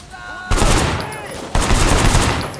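Rapid bursts of automatic gunfire ring out in the open-world action game Sleeping Dogs, two loud sustained volleys of rattling shots filling the clip with little else audible.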